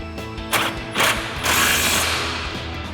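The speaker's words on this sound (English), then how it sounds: "Now we'll tighten down our forward mounting bolt with our 18mm socket." A ratchet wrench with an 18mm socket tightening the forward strut mounting bolt on a 2005-2009 Mustang GT, giving a few bursts of rapid clicking that grow longer and steadier, close and fairly loud.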